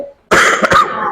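A single harsh cough from a man who is unwell, loud and close, a sharp burst followed by a rough trailing exhale, with no speech.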